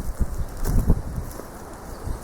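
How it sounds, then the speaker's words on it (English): Gusty wind buffets a microphone outdoors at old church ruins, a low rumbling roar with a couple of stronger gusts, close and unbroken, with no talking. "Sorry, it's a bit windy"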